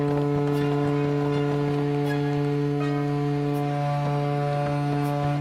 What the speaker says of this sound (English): Can you stop with the horn, thank you?